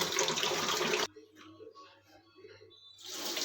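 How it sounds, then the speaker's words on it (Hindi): A toilet flush tank leaking water through a worn black rubber washer, a steady hiss of flowing water that cuts off abruptly after a second, leaving faint trickles and small clicks before the flow returns. "अब ये पानी का लीकेज हो रहा है"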